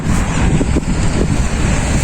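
Strong wind in Israel buffeting the microphone with a constant loud roar and low rumble, no voices.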